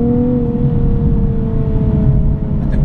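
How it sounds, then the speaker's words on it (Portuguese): Nissan 370Z NISMO V6 engine blipping its revs on a downshift for rev matching, a steady loud mechanical drone with a strong engine hum throughout, up close and without talk. "e ele faz logo aqui o rev matching."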